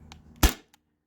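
A Sabre 68 CO2 home defense launcher fires a single 7.7 gram Joule V3 round: one sharp, close pop with a brief tail, followed by silence.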